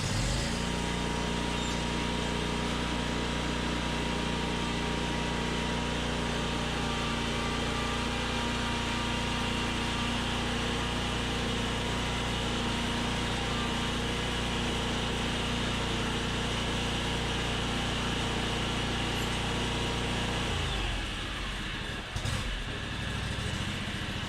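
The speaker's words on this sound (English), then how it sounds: "we're going to back the mower up onto the ramps" A Ferris Z3X zero-turn mower's engine idles steadily with a constant hum and buzz as it backs up onto ramps, then cuts out near the end, leaving brief clunks.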